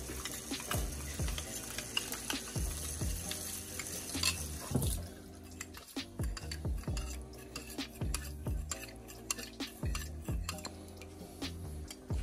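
A spoon clinks and scrapes rhythmically against a bowl, close by, stirring cornstarch into cold water; quiet with no talking.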